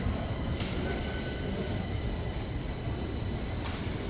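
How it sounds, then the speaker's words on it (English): A metro train runs through Stockholm's Odenplan station with a steady rumble of wheels on rail and a faint high squeal above it, continuous and moderately distant, with no talking. "So we made it to the metro."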